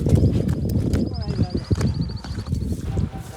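Horse hooves clip-clop close by in a quick, uneven rhythm while someone talks over them.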